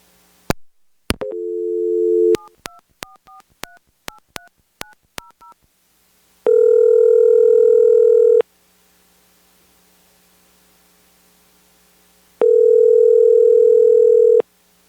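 A telephone line drops during a call-in broadcast of a high school basketball game. A rapid run of touch-tone dialing beeps gives way to a loud steady tone, a pause, and then the tone sounding again, all without voices.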